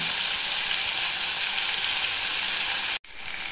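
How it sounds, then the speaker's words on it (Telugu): Ivy gourd frying in oil in a pan gives a steady, loud, close sizzle that runs evenly before cutting out abruptly near the end, then resumes faintly. "నూనె వేసిన తర్వాత బాగా వేగించాలి."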